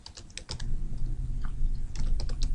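Keys clatter on a computer keyboard as a domain name is typed, with quick bursts of clicks, a short pause, then another run of keystrokes over a low room hum.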